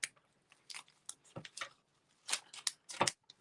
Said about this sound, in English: So I'm going to grab my ribbon scissors, just give that a little trim.